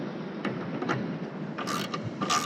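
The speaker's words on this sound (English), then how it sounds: "we're ready to bolt the awning on" Faint ratcheting and metallic clicks come from fitting bolts, washers and nuts to mount an OPENROAD 270 Plus awning onto its brackets on a 4WD, with a few short, quiet bursts over low background hiss.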